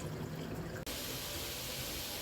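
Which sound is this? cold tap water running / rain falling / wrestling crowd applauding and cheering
cold tap water running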